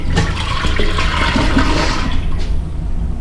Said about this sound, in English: So let's see if we do a half flush.